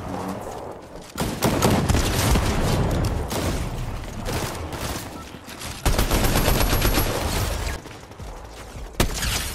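Rapid burst SMG gunfire in Fortnite, loud chattering volleys that come in long stretches with short gaps between them, over a dense layer of game noise and no speech.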